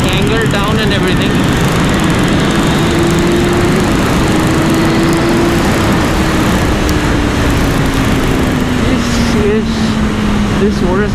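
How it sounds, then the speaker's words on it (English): A BMW S1000RR motorcycle engine drones continuously during a fast ride, loud and steady with a slowly falling pitch, mixed with heavy wind rush and a voice talking over it. "This motorcycle is madness."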